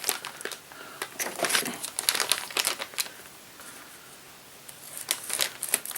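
Miniature parquet craft paper being cut with scissors, giving a string of short crisp snips and crinkly paper rustles in irregular bursts, close and fairly quiet, with a short lull near the end.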